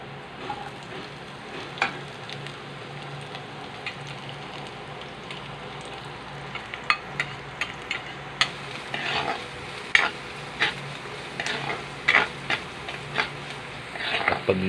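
Onions fry in a pan and are stirred until brown, a steady sizzle broken by irregular scraping clicks of the utensil that come more often and louder in the second half.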